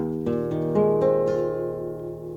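Acoustic guitar strings, capoed up a half tone, are plucked one after another, then ring together into a sustained chord that fades gently, fairly quiet and close.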